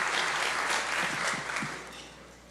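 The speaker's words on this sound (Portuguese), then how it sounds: "Você pode aplaudir nossos voluntários, celebrar a galera aí." A church congregation claps for its volunteers in a brief burst of applause that fades over a couple of seconds, with a low steady hum underneath.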